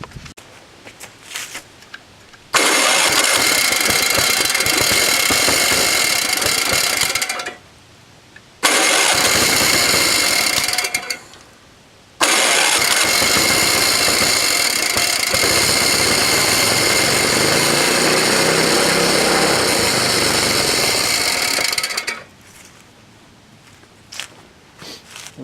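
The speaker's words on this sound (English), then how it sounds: "I don't know what that tinny noise was. Something was scraping." A vintage, rusty snowblower engine runs loudly in several long bursts with brief drops between them, carrying a tinny scraping rattle over a steady mid-range drone.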